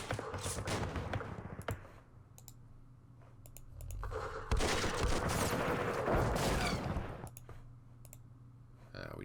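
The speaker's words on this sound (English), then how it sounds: "let's use our machine guns." Machine gun fire in the Vietnam war game Campaign Series Vietnam arrives as dense rattling bursts in the middle, set between sharp interface clicks and quieter stretches.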